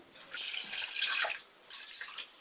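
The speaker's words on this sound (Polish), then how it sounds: "Żeberka zaleję zimną wodą." Cold water splashes and gurgles as it is poured from a tap into a pot over pork ribs, in two close bursts with a brief pause between.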